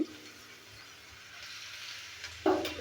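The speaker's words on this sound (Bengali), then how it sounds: "এবার দিয়ে দিচ্ছি 1 চামচের মতো রসুন কুচি।" A spoonful of chopped garlic drops into heated white oil in a pan and is stirred, a faint soft hiss that swells into a sudden brief sizzle near the end, with no talk.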